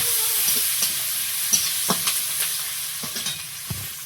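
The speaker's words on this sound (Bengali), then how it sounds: "পেঁয়াজটা ভাজা হয়ে গেছে" Onions sizzle in a hot pan close by, with scattered clinks and scrapes of stirring over a steady frying hiss.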